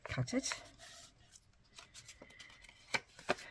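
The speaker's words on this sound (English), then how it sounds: "I'm going to just fold it in half and cut it." A sheet of card being folded in half and cut for papercraft easel cards, with brief papery rustles and a couple of sharp snips close by amid near silence.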